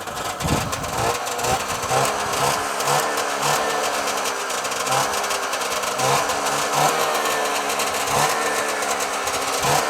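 Polaris Indy Lite 340 two-stroke snowmobile engine running outdoors with the belt off, a buzzy, rattling idle with rhythmic pulsing and small rises in revs, close and loud throughout.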